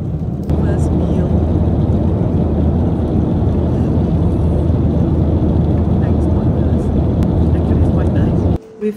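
Steady, loud low-pitched airliner cabin roar on a Qantas flight to Brisbane, a continuous engine and air rumble filling the whole stretch with little variation.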